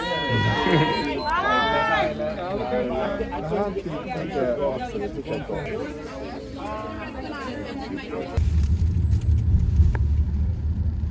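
A car pulling up outside at night in Reykjavik: several people chatter over background noise, then a steady, loud, low engine rumble takes over for the last few seconds.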